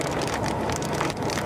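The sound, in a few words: hail falling on a car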